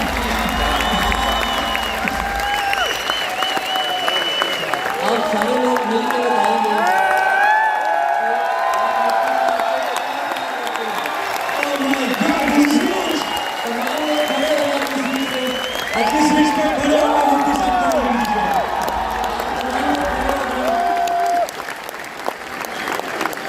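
Applause and cheering from a large conference crowd at Connected Pakistan 2023, honouring the speakers on stage; steady clapping with whoops fills the whole stretch while an emcee talks over it.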